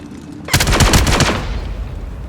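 Loud, close automatic gunfire in the video game Star Citizen: a rapid burst of shots lasting about a second, then a fading rumble that lingers to the end.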